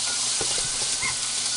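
Pork sizzling while cooking at a 4H event, a steady bright hiss filling the short stretch with a few faint pops, close and continuous with no talk.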